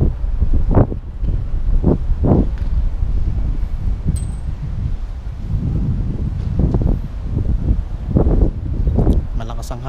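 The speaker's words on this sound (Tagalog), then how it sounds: "Ang hangin." Gusty wind buffets the microphone at a children's playground in bursts of low rumbling noise, with intermittent talk mixed in.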